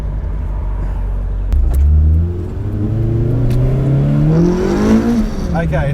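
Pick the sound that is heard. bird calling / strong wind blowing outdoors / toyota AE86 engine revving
toyota AE86 engine revving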